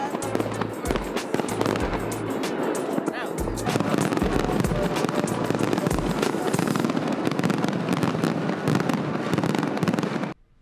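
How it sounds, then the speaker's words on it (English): Loud Chinese New Year fireworks show outdoors, with dense continuous bangs and crackles through nearly the whole stretch that stop abruptly at the end. "the crowds went outside to appreciate the beautiful fireworks show"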